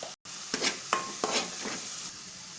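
Boiled chicken with chili powder, turmeric, salt and garam masala sizzles steadily in a pan, with several close scraping stirs of a spoon against the metal.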